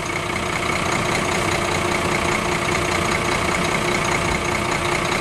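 A Ford Cargo diesel truck engine runs steadily at idle, a loud, continuous low rumble with a rough knocking texture that holds even throughout, no voices over it.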